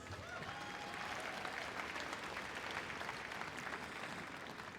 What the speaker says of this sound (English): let's please give them a very special round of applause